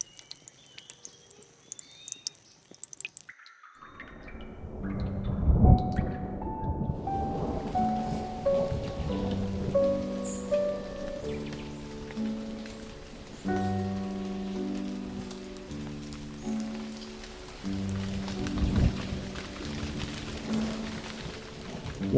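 Steady rain during a storm patters and hisses across surfaces, starting after a brief quiet stretch and continuing under layered music for the rest of the clip.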